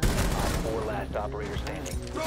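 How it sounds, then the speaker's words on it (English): A flashbang grenade thrown during a tactical shooter match sets off dense, loud bursts of gunfire and blasts that run continuously under a chaotic mix. "Throwing flashbang!"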